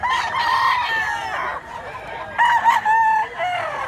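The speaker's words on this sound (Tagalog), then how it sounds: "Ang manok guys" A rooster crows loudly nearby in Mantalungon, Barili, Cebu, two long strained calls separated by a short pause, with some clucking between.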